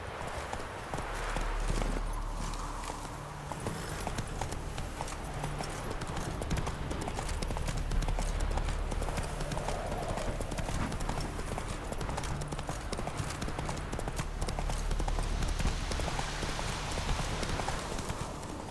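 Hoofbeats of a horse in The Witcher 3 video game, a steady, continuous clip-clop of trotting hooves close by, running throughout over a dense game soundscape with low ambient rumble.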